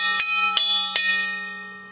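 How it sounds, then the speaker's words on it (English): Three evenly spaced strikes on a tom fitted with a thick steel hoop, each giving a clear ringing, bell-like tone with a long sustained decay, close and with no other sounds. "And the other side features a thick steel hoop,"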